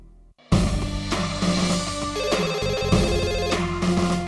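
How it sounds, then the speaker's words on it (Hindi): A telephone rings loudly as a call is placed to a police station, a continuous melodic ringing tune that starts abruptly and repeats without pause. "एक मिनट में पुलिस को फोन लगाता हूँ"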